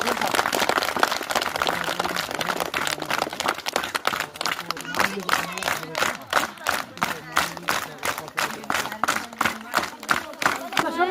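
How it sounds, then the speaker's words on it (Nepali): Clapping from a gathering at a school warm-clothing distribution event, a dense patter of hands that thins into sparser, rhythmic claps, with voices speaking over it. "ल सबले तालीद्वारा स्वागत गर्नु"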